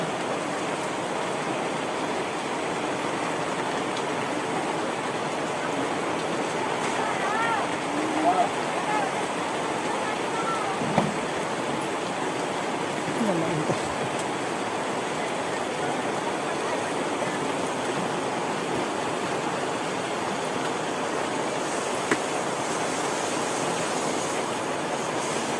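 Steady, dense roar of heavy rain, continuous and enveloping throughout, with a few faint knocks and muffled voices in the background.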